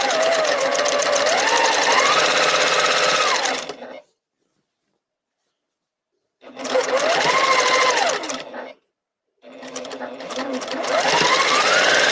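Sewing machine stitching a throw-size quilt, running loud and close in three long stretches broken by complete silences, with someone talking over the motor.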